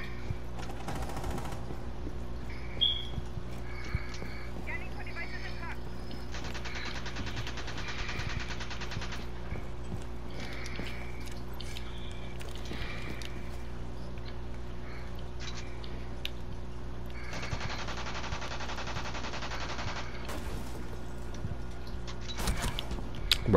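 Rainbow Six Siege gunfire comes as scattered, fairly faint bursts of shots and mechanical clicks over a steady low game hum, with louder clusters around 2, 7 and 21 seconds.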